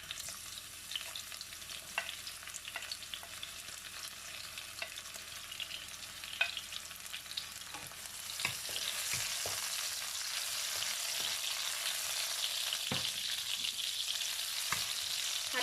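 Pounded chili and garlic paste stir-fried in a pan for a simple Thai ginger chicken dish, a steady close sizzle with scraping spatula strokes that grows louder and brighter partway through, no talking.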